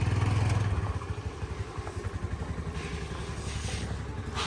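A small scooty engine idles and chugs with a steady rhythmic putter, loud at first then settling into an even, close running hum.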